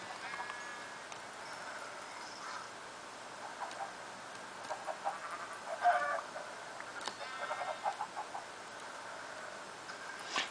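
Chickens in the video game Minecraft cluck in short, scattered bursts over a faint background, with a few soft clicks mixed in and no one talking.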